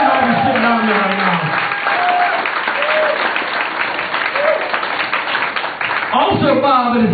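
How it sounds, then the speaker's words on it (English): A comedy club crowd breaks into loud, continuous applause and cheering for Bob Edwards, with a voice talking over the top near the start and again at the end. "let's hear a round of applause for Bob Edwards"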